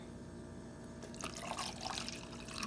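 Water pours into a cup holding ice and a half scoop of pre-workout powder, a soft close splash and trickle that swells after a quiet start, with no talking.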